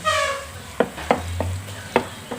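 Japanese rice being tossed and mixed in a pan, with a soft sizzle at first and then several distinct scraping stir strokes at close range, no talking.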